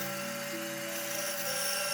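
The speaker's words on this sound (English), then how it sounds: "bring the back of your workpiece to the bandsaw and use essentially the backside of the teeth on the blade to grind" The back of a bandsaw blade grinds away excess wood from a workpiece, a continuous harsh rasping whine with steady machine tones, loud and uninterrupted.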